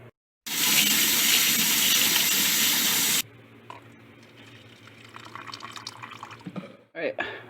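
Water gushes loudly and steadily for about three seconds as a tarantula's water dish is filled during a rehouse and watering session, then gives way to quieter trickling, handling noises and faint voices.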